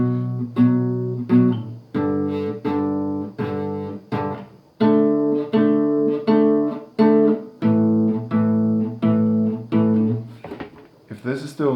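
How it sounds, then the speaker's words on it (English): Guitar power chords, two notes strummed together, ringing in a steady series of sustained, chugging hits that repeat for several seconds, loud and close with no talking over them. "Power chord sounds like this."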